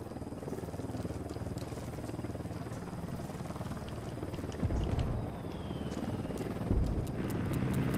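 A helicopter in Ghost Recon Wildlands drones with a steady low rotor and engine rumble, close and continuous, with a couple of brief louder thumps partway through.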